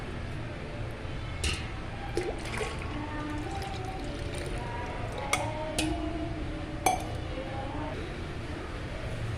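Plain milk poured into colostrum while making seempal, a village-style colostrum cake. A soft, faint trickle runs under kitchen background noise, with a few light clinks and ticks.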